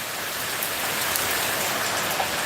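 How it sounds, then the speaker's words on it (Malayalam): Steady rain falls outdoors, a dense, even hiss of drops striking surfaces that continues without a break, with no voices over it. "इधर अच्छा बारिश चल रहा है"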